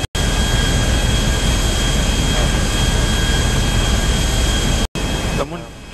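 A burning airplane engine roaring during takeoff in the GTA video game, a loud steady jet-like roar that cuts out briefly twice and fades near the end.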